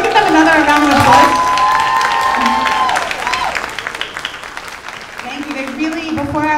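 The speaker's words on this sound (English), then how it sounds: "Can we give them another round of applause?" Audience applause at a school spring concert, a loud dense round of clapping and some cheering that fades after a few seconds, with a voice speaking over it.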